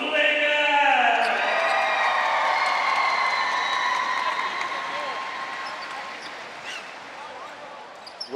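Basketball fans cheer and applaud in an arena during a Singapore Slingers game, a loud crowd roar with whoops and horn-like tones that slowly fades, with an announcer's voice over it.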